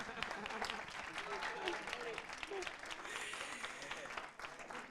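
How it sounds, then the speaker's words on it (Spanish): Steady applause from a crowd fills the room, a dense patter of clapping that holds throughout, with a few voices mixed in. "Un aplauso"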